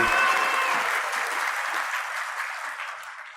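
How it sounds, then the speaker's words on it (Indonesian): Applause from an audience at an Indonesian official ceremony honouring cabinet ministers, a dense burst of clapping that starts strong and slowly fades over a few seconds, with no voices over it. "Tepuk tangan untuk Pak Basuki, Pak Budi"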